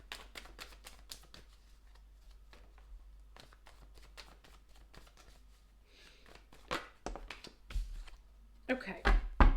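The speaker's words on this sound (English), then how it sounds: "I want to shuffle the cards real quick." Tarot cards shuffled by hand during a reading, a soft run of quick riffling clicks and flutters that grows louder and busier toward the end, with no talking over it.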